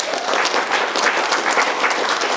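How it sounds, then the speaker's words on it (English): A conference audience at PromptConf 2019 applauds, a dense, even wash of many hands clapping at once, steady and fairly loud throughout with no speech over it. "So give yourselves a round of applause."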